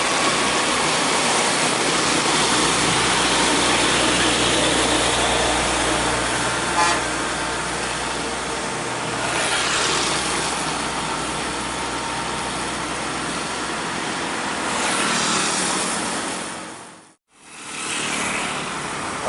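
A large Fajar Riau tour bus rumbles past with a broad roar of engine and road noise that swells and fades, followed by a brief drop-out.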